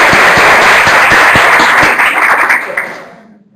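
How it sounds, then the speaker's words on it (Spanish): Audience applause at a discussion session, a dense steady round of clapping from a room full of people that tapers off and fades out over the last second. "Otra vez el aplauso porque es que no había micrófono."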